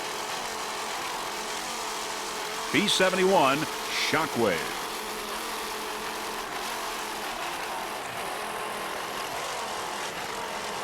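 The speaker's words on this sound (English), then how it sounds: "Just listen to those Bandit inboards." Bandit inboard engines on B-class racing powerboats, a distant steady drone with louder engine passes rising and falling briefly near the middle, under an announcer's voice.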